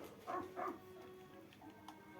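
A dog barking in the video game Pikmin 4, two quick close barks near the start followed by quieter game sounds.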